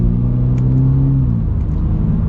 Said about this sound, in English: Love the sound of the engine.